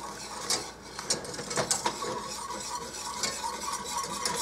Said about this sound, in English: I'm going to put in my jello and mix that all up really, really good until it's all dissolved